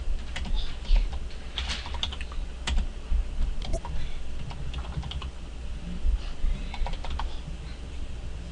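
Steady typing on a computer keyboard, with close key clicks in an uneven rhythm and occasional louder keystrokes over a constant low background hum, no talking.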